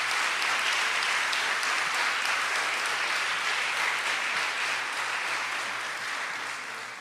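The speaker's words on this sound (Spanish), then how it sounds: "Así que, pues un aplauso para Carlos Fernando Chamorro y su equipo en este aniversario que celebramos" Sustained audience applause at an anniversary celebration for a journalist and his team in Nicaragua, dense steady clapping throughout that tapers slightly toward the end.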